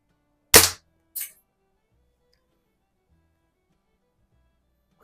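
A Daisy Red Ryder BB gun fires two sharp, close cracks about half a second apart, followed by near silence.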